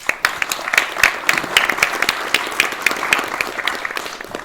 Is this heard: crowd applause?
yes